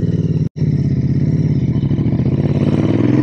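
A custom Royal Enfield Interceptor 650 twin runs steadily with a throbbing, pulsing exhaust note close by, broken by one brief dropout, the engine note rising slightly toward the end.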